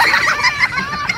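A duck playing with a baby outdoors gives rapid, loud, close quacking and honking calls in a quick burst, with no talk over it.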